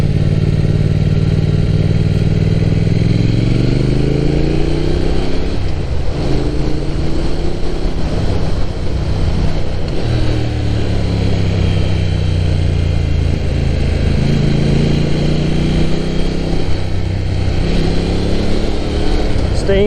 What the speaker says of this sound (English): The roar of this engine is just incredible.